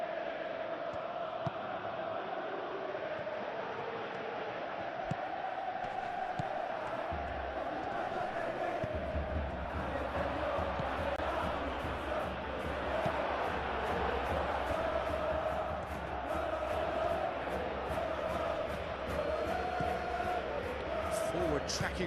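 Stadium crowd noise during a PES 21 football match between Atletico Madrid and Bodo Glimt, a constant roar and murmur of fans with rising swells of cheering, heard under commentary.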